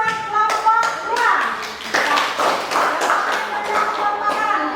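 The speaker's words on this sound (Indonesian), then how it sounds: "Tepuk tangan buat kelompok 2." A group of children clapping for the second group in a classroom, a dense run of claps mixed with voices, steady and fairly loud.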